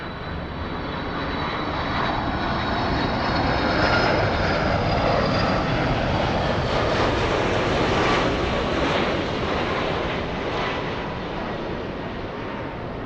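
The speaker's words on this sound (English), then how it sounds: "It's Qatar A380." Roar of a Qatar Airways Airbus A380 airliner at a busy airport, a loud, steady broadband rumble that swells gently toward the middle and holds for the whole stretch with no voices.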